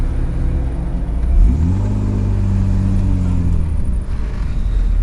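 A Mercedes E36 AMG W124 Cabrio engine revs on a race track, a loud, close mechanical roar whose pitch climbs through a strong pull, then holds and drops back with no voices.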